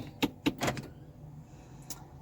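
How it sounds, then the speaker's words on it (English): A 2020 Toyota Corolla Hybrid's automatic parking brake releasing as the car is shifted into gear: a quick run of three or four mechanical clicks and clunks, then a lone faint click after a short pause. "The automatic parking brake disengages the moment we put the car in gear."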